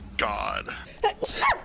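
One sharp sneeze bursts out close to the mic during a livestream, followed by brief voices reacting right after.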